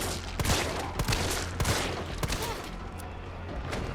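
Gunfire in the Resident Evil 3 video game: a rapid run of sharp shots, several bursts in quick succession over about four seconds, fairly close and moderately loud with no talking.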